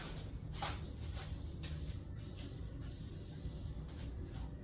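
Several short hissing bursts of cooking spray onto a pan for meatloaf, close and fairly steady, with brief pauses between sprays and no talking.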